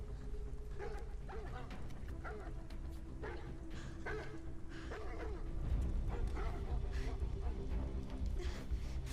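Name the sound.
dog barking and whimpering in a video game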